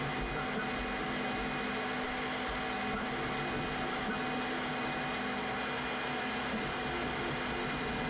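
A Creality K1 3D printer runs at high speed, giving off a constant whirring hum of fans and motors with a steady tone that never lets up.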